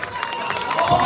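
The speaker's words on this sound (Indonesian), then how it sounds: "Tepuk tangan untuk penabuh." Audience applause and crowd noise for gamelan musicians at a Calonarang temple performance in Gianyar, Bali, a brief dense wash of clapping and murmur that swells slightly toward the end.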